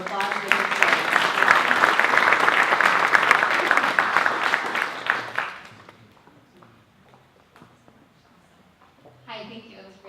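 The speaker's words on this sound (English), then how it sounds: "So if you can please come forward and with a round of applause." An audience at a civic leadership talk claps loudly for about five seconds in a dense, close burst, then the applause fades into scattered claps and murmur before a single voice starts speaking.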